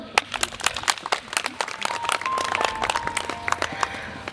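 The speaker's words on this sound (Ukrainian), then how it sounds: "Оплески хлопцям." Guests at an outdoor wedding ceremony in Lviv applaud the groom's two friends, a moderate, uneven patter of many hands with a faint tone and a little talk mixed in.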